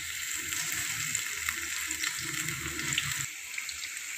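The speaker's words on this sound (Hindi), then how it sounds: "यहाँ पर हमारे पकौड़े बहुत ज़बरदस्त से फ्राई हो चुके हैं" Dahi pakoras fry in hot oil with a steady, close crackling sizzle that softens abruptly near the end.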